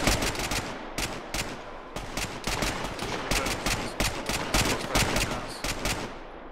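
Rapid gunfire from a first-person shooter video game, with fast repeated bursts of loud, close shots in a steady automatic rhythm that lasts throughout and has no talking over it.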